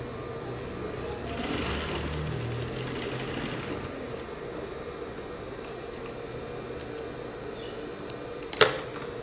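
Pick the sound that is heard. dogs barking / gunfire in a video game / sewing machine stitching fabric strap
sewing machine stitching fabric strap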